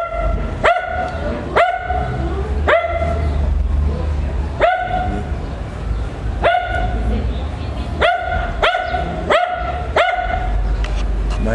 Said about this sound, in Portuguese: Olha o cachorro